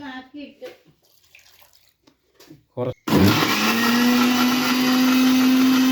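After some quiet clatter and brief talk, a mixer grinder bursts on and whirs loudly and steadily, grinding cassava for fufu in a kitchen.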